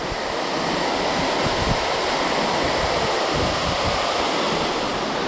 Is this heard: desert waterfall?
yes